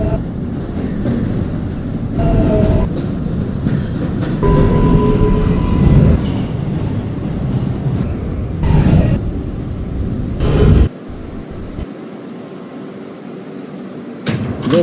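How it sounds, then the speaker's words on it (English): A Manhattan-bound 7 local subway train in a Roblox game pulls into a station with a loud, steady rumble and rattling wheels, a few sharp clanks along the way, before the noise cuts off abruptly near the end. "There is a Manhattan-bound Local 7 train to 34th Street, Hudson Yards. Approaching the station,"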